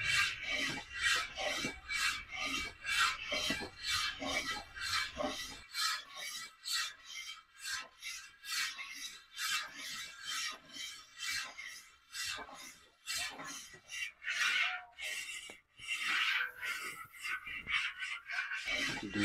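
A spoon or paddle scrapes rhythmically and continuously around a pot of boiling milk cream being cooked down into ghee, a steady rasping stir in a small production kitchen.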